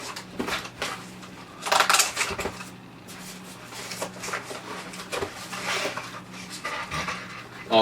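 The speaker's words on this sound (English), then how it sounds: "So let's open the box." A CM Storm keyboard box being opened, with cardboard and plastic packaging rustling, crinkling and scraping in intermittent close bursts, a few louder handling noises mid-way, no talking.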